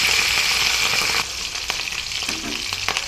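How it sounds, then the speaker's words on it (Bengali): Shrimp frying in a pan, a steady loud hiss of oil with a few scraping stirs partway through and no voices. "চিংড়ি মাছটা একটু ভাজা ভাজা করে নিয়ে"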